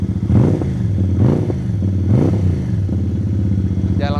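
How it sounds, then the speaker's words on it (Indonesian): A 400cc Moge motorcycle engine revs up and down several times, its throaty aftermarket SAC exhaust rumbling loudly and close, with a brief rattle at the end. "Jangan khawatir dengan suara yang lucu di motor ini atau lembut di motor ini"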